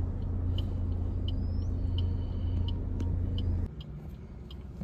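New Maruti Swift Dzire VXI driving on a long road trip, a steady low engine and road rumble from inside the cabin, continuous and loud, easing slightly near the end.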